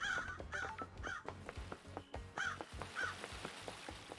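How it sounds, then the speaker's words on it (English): Crows in the Paradise Killer video game give repeated harsh caws, roughly one every half second, followed by a brief pause and then a few more, fairly close and clear over a faint ambient bed. "A lot of crows here for some reason."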